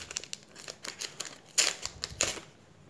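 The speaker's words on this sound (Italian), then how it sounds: "Apriamo un altro pacchetto." Crinkly plastic wrapper of a Panini sticker packet being torn open by hand, a quick run of close, soft rustles and crackles with two sharper rips near the end.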